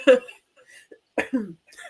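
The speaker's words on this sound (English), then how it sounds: "I'm going to be coughing throughout here." Two separate bursts of harsh coughing about a second apart, close and fairly loud, with brief quiet gaps between them.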